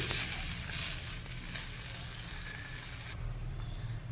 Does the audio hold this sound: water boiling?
yes